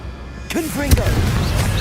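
A Confringo blasting spell exploding in Hogwarts Legacy, a sudden short boom that breaks in right after a spoken incantation, followed by a rumbling tail under continued speech.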